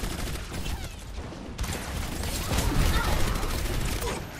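Loud, close automatic gunfire rattles in a busy Overwatch match on Route 66. Mechanical clatter and other game noise mix in, and the shooting grows denser in the second half.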